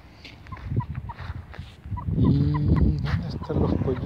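Laying hens about six months old clucking and calling in a busy coop, several birds close by with overlapping squawks and chatter, fairly loud throughout.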